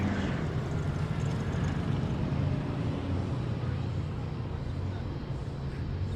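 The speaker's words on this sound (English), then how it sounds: "Above us in the sky, making its entrance from the rear of the grandstand, is the MD-530G." An MD-530G helicopter passes overhead at a firepower training display, giving a loud, steady engine and rotor roar that fills the whole stretch without any break.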